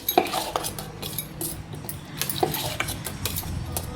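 A spoon stirs thavala adai batter mixed with buttermilk in a vessel, giving a steady stream of close scraping and clinking of metal against the pot that goes on for the whole stretch without talk.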